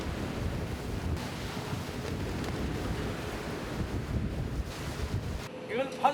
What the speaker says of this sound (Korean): 바람이 거세집니다.